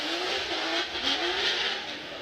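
A BMW drift car from ESSA Auto Sports, running on Achilles radials, revs steadily during Formula Drift qualifying at Long Beach, a sustained buzzing engine note rising and falling slightly, moderately distant with crowd-like ambience.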